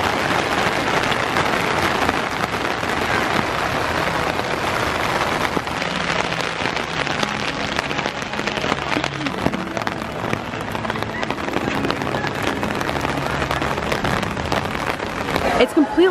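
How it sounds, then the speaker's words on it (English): Heavy rain pours down in a sweeping rainstorm at Epcot during the Disney Flower & Garden Festival, a loud, dense, unbroken roar of water hitting surfaces that fills the whole stretch. "It's completely pouring"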